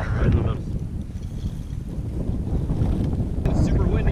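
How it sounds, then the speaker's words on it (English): Strong wind roars steadily across the microphone in heavy low rumbling gusts ahead of a cold front, with faint water movement beneath and no clear speech. "It's super windy out today, we got a cold front moving in."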